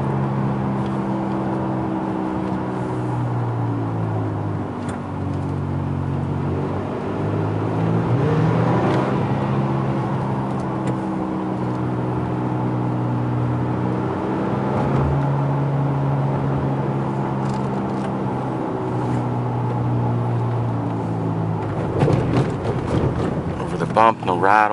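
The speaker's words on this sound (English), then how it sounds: "Sounds like the tires are making a little bit of a road noise," A 2008 Toyota Tacoma Access Cab TRD Off Road 4x4 driving on the road, with a steady low engine drone and tire road noise throughout and a few bumps near the end; a person talks over it.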